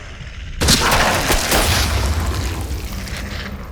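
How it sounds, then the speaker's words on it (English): A heavy shotgun blast booms out in Atomfall, fired at zombies, with a sharp loud onset followed by a long rumbling decay and a few faint clatters trailing off. "Nothing better for against zombies than a classic shotgun."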